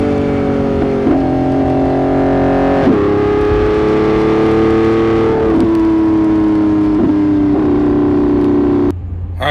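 Lamborghini Revuelto accelerating hard in track mode, a loud close engine howl climbing through several gears with sharp pitch drops at each shift, ending abruptly.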